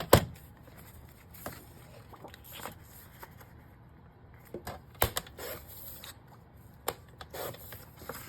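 Paper pieces for journal card pockets are cut with scissors to six inches, giving quiet, close snips and rustles at irregular intervals against a mostly hushed background.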